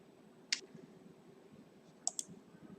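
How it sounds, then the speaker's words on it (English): In a quiet room, a computer mouse gives one crisp single click and then, about two seconds later, a quick double-click of two sharp taps close together. "So double click on this"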